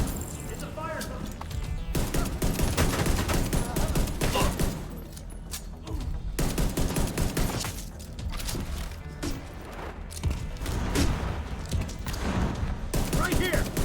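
Bursts of rapid gunfire crackle almost nonstop in a shooter game, The Division 2, with dense volleys and impacts under shouted voices from the game characters.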